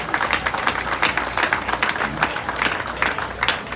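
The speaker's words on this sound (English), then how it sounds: "So we need to give them a round of applause this morning." A Labour Day rally crowd outdoors at Union Square breaks into applause, a dense, lively patter of many hands at moderate distance, with no one speaking over it.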